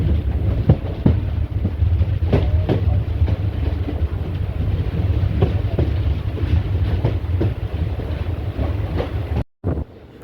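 A train rolling into Karuvatta railway station on the Kayamkulam–Alappuzha line, a loud, steady rumble with rhythmic clatter and wind buffeting the microphone, briefly cut near the end.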